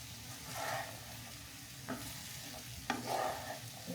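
Food being stirred and mixed in a pan, with soft scraping strokes and a couple of sharp utensil knocks over a low, continuous frying hiss. Nobody speaks.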